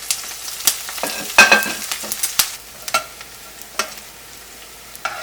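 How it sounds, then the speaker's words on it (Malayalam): Ginger, garlic, green chilli and onion frying in oil after mustard seeds, with soft sizzling and several sharp spoon scrapes and stirring knocks, close and moderately loud. "അപ്പോൾ നമ്മുടെ കടുക് പൊട്ടിയിട്ടുണ്ട് നമ്മുടെ ഇഞ്ചിയും വെളുത്തുള്ളിയും പച്ചമുളകും സവോളയൊക്കെ ചേർക്കുന്നുണ്ട് കേട്ടോ"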